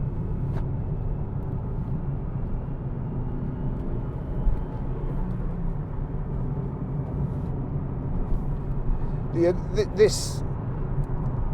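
A 2014 Nissan 370Z 3.7 V6 GT drives along, its engine and road noise forming a steady low rumble inside the cabin, with a brief higher burst near the end.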